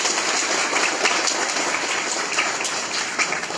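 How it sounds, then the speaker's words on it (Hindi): A classroom of schoolchildren claps together, a dense, steady burst of applause filling the room at close range for several seconds. "ताली बजाओ।"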